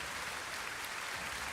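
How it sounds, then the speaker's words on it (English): Steady, dense applause from an audience at a fan battle competition, a continuous wash of clapping held at an even level throughout with no talking over it. "Applause are in order."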